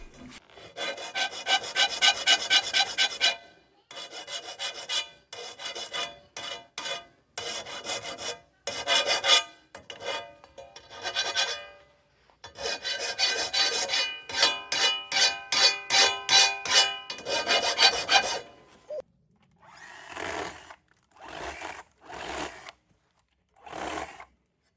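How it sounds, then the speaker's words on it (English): A hand file rasps across the teeth of a slow, rough-cutting wood saw during treehouse building, in bursts of rapid back-and-forth strokes with short pauses, close and fairly loud, ending with shorter separate strokes. "so I thought I'd give it a file down and see if I could make it cut any better."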